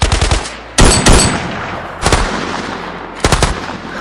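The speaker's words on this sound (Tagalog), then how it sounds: "mga putok na naman ng barela na sunod-sunod na" Loud, close bursts of rifle fire: a quick volley, then a heavy burst, a single shot, and a final short burst, each ringing out briefly.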